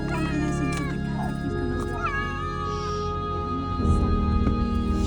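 A cat meows repeatedly in drawn-out, rising and falling cries, close by, over a steady low hum and faint background voices.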